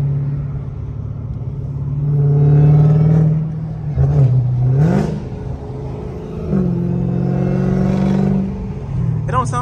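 A Dodge Hellcat with a repaired exhaust is revved nearby. Its deep rumble climbs and falls through several throttle blips, then settles back to a heavy idle between pulls.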